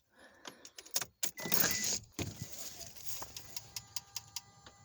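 Soft, rapid clicking from the EGR valve stepper motor on a fairly new part fitted to a fourth-generation Mitsubishi Eclipse, heard as a run of light regular ticks over a running-engine background. A brief louder whoosh and rustle come partway through.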